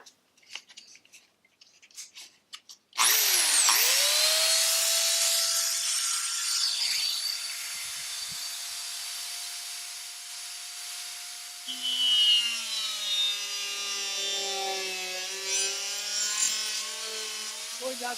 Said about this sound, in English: We are going to use our saw max and see if we can get rid of this damaged